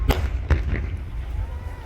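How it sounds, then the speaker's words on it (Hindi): Gas cylinders burst in a truck on fire at a gas agency in Bareilly, two sharp blasts about half a second apart followed by a lower crackling rumble. "ट्रक में आग लगी और सिलेंडर में जोरदार धमाका"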